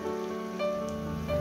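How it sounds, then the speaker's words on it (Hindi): Long potato sticks frying in hot oil in a pan, a steady, soft sizzling hiss that stays even for the whole moment. "अब इनको गोल्डन होने तक फ्राई कर लेंगे"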